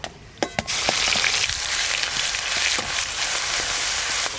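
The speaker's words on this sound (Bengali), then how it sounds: "পেঁয়াজ বাটা হালকা করে ভাজা ভাজা হয়ে গেল" Grated onion frying in hot oil with black cumin seeds for a tilapia jhalda curry, a loud, steady, close sizzle with a few sharp utensil clicks near the start.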